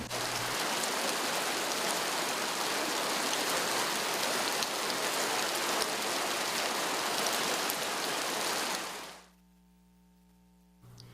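Water dripping from cliffs into a stream patters and splashes down in a dense, steady rush like heavy rain, ending abruptly into near silence.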